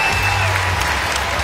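Loud, sustained applause rolls through a basketball arena as fans stand and cheer for the departing seniors at a women's college game, the clapping steady and close.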